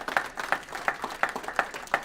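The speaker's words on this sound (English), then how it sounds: "I'm gonna clap for that one" A few slow, evenly spaced claps, roughly one every third of a second, fairly faint in a quiet room at a chamber of commerce budget meeting.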